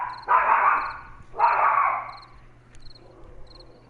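A dog barks indoors during a live gaming session, giving two loud, fairly long barks about a second apart, followed by quieter room noise and a faint steady hum.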